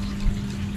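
Water running from a tap into a round tarpaulin fish pond set up for gourami aquaponics, a steady low gushing hum with a pump-like drone, close and continuous for under a second.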